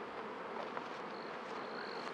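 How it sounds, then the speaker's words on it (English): Honeybees hum around a beehive, a continuous soft buzzing with a single bee's whine passing near at times, no voices present. "That bee is just flying around there."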